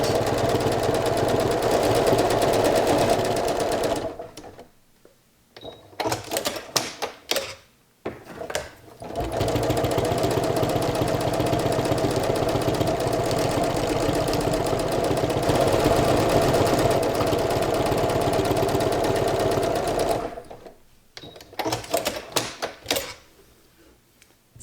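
Sewing machine running steadily during free-motion quilting of a sea glass flower quilt with batting, loud and close, in long continuous bursts broken by short pauses and brief stop-start stitching.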